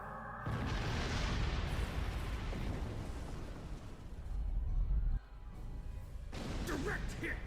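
Weapons fire and heavy explosions striking a starship in the Star Trek Online video game, a sustained loud rumbling roar with a brief drop before resuming, with voices faintly beneath.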